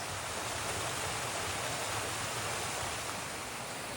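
A brook along the Appalachian Trail rushes steadily, a dense, even hiss of flowing water filling the air with no pauses or voices.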